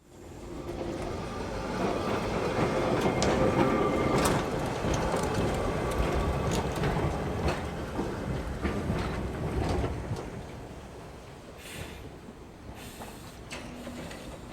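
An Auckland Dockline tram shunts out of its depot shed, with a rolling rumble and rail clatter that build and then fade, plus a few clicks and knocks, heard at moderate distance and fairly faint.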